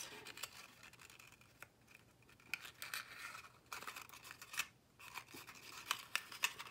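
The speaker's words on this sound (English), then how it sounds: "So we're going to put glue" Scissors snip through paper while a memorydex card is being made, with a run of soft, close, irregular cuts and rustles at low volume and no talk.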